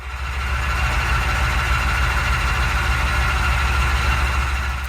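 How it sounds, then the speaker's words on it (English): Starter motor stuck engaged on an old engine left sitting for 20 years, a loud, continuous droning whir close by, steady and unbroken. "I couldn't get the starter motor to disengage."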